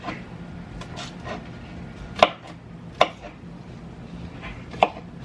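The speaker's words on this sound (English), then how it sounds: "This is the wrong kind of knife for sure, for any kind of chopping." Knife chopping onions on a cutting board, three sharp distinct thuds spaced about a second apart over quiet kitchen background, fairly close and with no talking.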